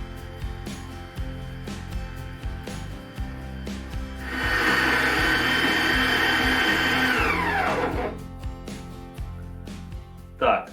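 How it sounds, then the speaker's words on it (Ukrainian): A meat grinder churns rose petals for jam in a steady, coarse whirring that swells to a louder grinding for several seconds and then winds down, with softer mechanical rattling around it. "Ну ось і перемололи, друзі, наші пелюсточки."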